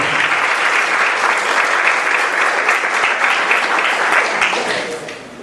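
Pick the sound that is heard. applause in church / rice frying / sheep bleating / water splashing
applause in church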